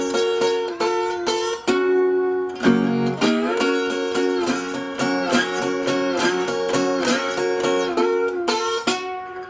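An acoustic guitar played in a country blues style, the Delta Lou sequence, picking a steady run of bright repeated notes and bass figures for several seconds with no talking.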